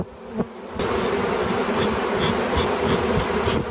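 Honeybees buzz and fan in a dense, steady drone at a hive entrance hole in a thorny, overgrown spot, loud and close after a brief quiet start, with no talking.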